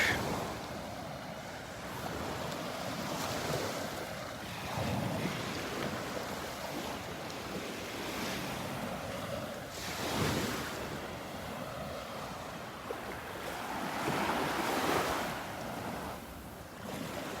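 Ocean surf rolls onto the beach at Delnor-Wiggins on a Sunday morning, with a steady broad wash of breaking waves and gusts of wind buffeting the microphone, moderately loud throughout.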